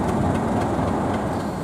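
A locomotive-hauled short set train runs between Norwich and Great Yarmouth, giving a constant close rumble with faint rhythmic clicks from the rails. Nobody speaks over it.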